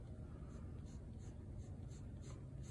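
A hard black pencil scratches steadily across paper at very close range. The soft, continuous strokes carry faint rhythmic accents and stand alone without any talking.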